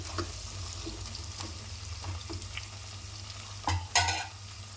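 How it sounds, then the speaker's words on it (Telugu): Potato pieces for aloo pulao fry in a pan with a low steady sizzle and occasional light scrapes of stirring, then a couple of louder clanks of the spoon near the end, with no speech. "ఆలు ఇలా ఫ్రై అయితే సరిపోతుందండి"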